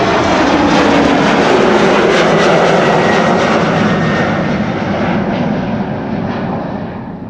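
An Embraer jet airliner on a departure at Amsterdam Schiphol Airport on a sunny day, its engines roaring loudly and steadily throughout, the broad rumble fading slightly toward the end as the aircraft moves away.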